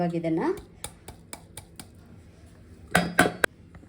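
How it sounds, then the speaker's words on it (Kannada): Finely ground masala powder for kaima sambar is transferred from a mixer jar into a mixing bowl. Scattered soft taps and scrapes are followed by a sharp cluster of metallic clinks near the end, quiet and close. "ಒಂದು ಮಿಕ್ಸಿಂಗ್ ಬೌಲ್ಗೆ ಹಾಕೋತಾ ಇದ್ದೀನಿ"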